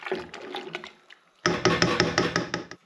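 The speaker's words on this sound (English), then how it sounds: "I give that a stir." A sludgy home-brew stout mixture stirred in a vessel, producing wet scraping and sloshing strokes in two bursts, the second denser and louder, close up with no talking.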